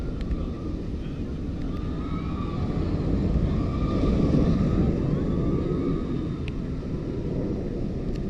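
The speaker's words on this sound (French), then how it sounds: "que ça fait plaisir de réentendre ce bruit strident. Le bruit d'avion de chasse. Le nylon, le vrai." A shrill, sustained mechanical screech of roller coaster nylon wheels on track, with rising whistling tones over a steady loud rumble, continuous throughout.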